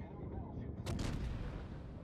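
Battleship main-gun salvo in the naval video game World of Warships, a deep booming blast that swells over a constant low rumble of engine and sea noise, loud and sustained for about a second.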